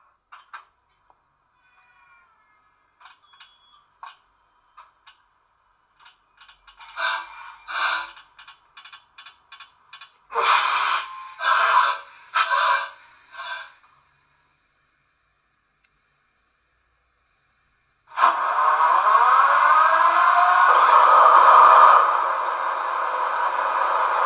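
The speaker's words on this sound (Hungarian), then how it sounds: "Nézzük is most meg, hogy szól a mozdony és milyen hangfunkciók találhatóak benne." Sound functions of a Roco ÖBB 2016 "Hercules" model locomotive, starting with faint clicks and short chirping tones, then rhythmic bursts of hissing, and ending with a sustained engine-like whir, heard alone.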